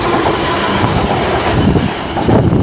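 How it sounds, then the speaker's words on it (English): A train rolls past close by on a rail line heading toward London, a loud continuous rumble of wheels and carriages with rhythmic clickety-clack and some wheel screech throughout, no talking. "I have another train approaching on my six."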